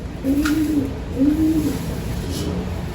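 Pigeons in a loft give two soft, close cooing calls in a row over faint background noise.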